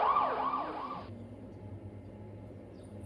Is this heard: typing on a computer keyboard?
no